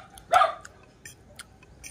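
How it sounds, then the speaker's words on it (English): Dogs barking outdoors, one loud sharp bark early followed by a few fainter, more distant barks spaced out over a couple of seconds. "They are barking, no?"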